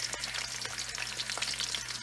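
Onions sauté in a pan with a close, crisp, steady sizzle and light crackling throughout, with no talking.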